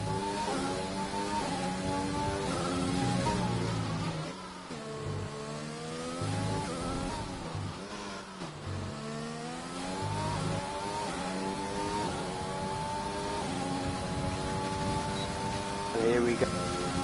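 A race car engine in a racing video game holds a high, steady whine across a straight during a hot lap, its pitch dipping and climbing through gear changes, with a commentator talking over it throughout.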